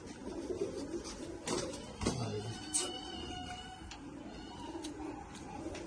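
Pigeons coo in a loft among a new collection of birds, low soft calls recurring over a busy background with a few sharper knocks and a brief chirp; no one speaks.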